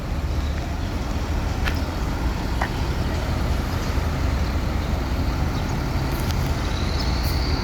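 A Mercedes-Benz bus idles and moves through a bus terminal, a steady low engine rumble with dense traffic noise and faint distant clanks and hisses throughout.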